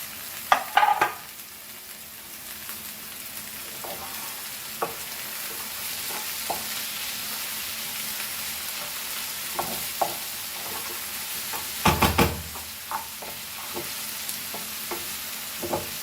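Chicken mince cooking in a pan with tomatoes as it is stirred, giving a steady low sizzle broken by scraping clatters of the spoon, with a heavier burst of stirring near the end.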